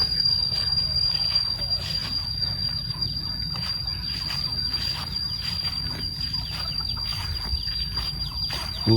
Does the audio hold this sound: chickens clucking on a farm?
yes